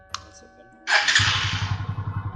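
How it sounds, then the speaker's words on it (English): A TVS Apache RTR 200 4V motorcycle engine cranks and catches, then settles into a throbbing, pulsing idle close by, loud and rhythmic. "When I start the engine,"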